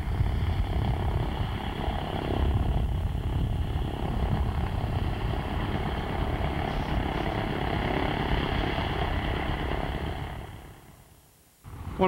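A de Havilland Otter float plane runs its radial propeller engine at a fly-in air service dock before a morning flight, a loud steady drone that holds even and then drops away sharply near the end.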